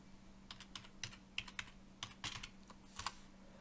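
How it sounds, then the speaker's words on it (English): A command typed on a computer keyboard while setting up a flight controller in Betaflight, a quick run of close, light key clicks in an uneven rhythm, quiet over a low hum, with no talking. "we're going to go to the CLI and type resource"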